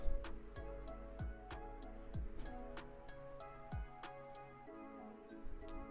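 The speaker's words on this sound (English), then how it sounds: "So I can hear a ticking noise." A steady, even ticking like a clock runs through background music, with regular sharp clicks above a soft musical bed and occasional low thumps, fairly quiet and without talk.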